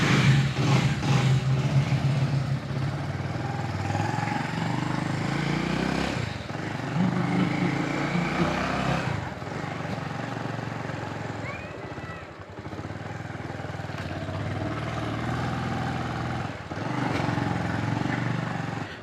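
A motorcycle rides along Nice Road, a wide divided highway in Bengaluru, in the rain, its engine droning steadily beneath wind rush and road noise throughout.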